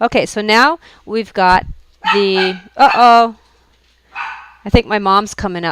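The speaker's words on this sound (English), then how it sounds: "Sorry about the barking." A pet dog barks indoors in a home craft room, several short sharp barks mixed in with someone talking close to the microphone.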